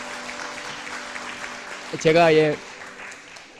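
A church congregation at a Sunday worship service applauds, a broad wash of clapping under room tone, with a voice speaking briefly over it near the end.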